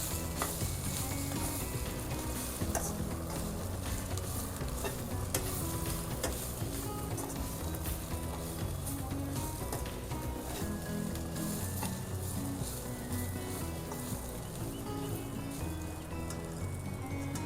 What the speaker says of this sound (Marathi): आता ह्याच्यातनं आपण पहिला सुक्या खोबऱ्या टाकूया, त्या भाजूया.